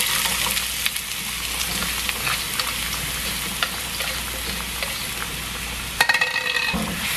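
Chopped onions fry in a pan over medium-low heat with a steady, close sizzle and faint crackles, broken near the end by a brief burst of clatter and stirring.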